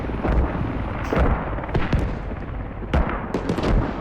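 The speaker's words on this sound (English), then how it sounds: "the Janky is just calling in the mortars onto that radio" Mortar strikes in a Squad-style military shooter video game land as a rapid string of sharp, loud explosive cracks and thuds, closely spaced and overlapping into a continuous barrage.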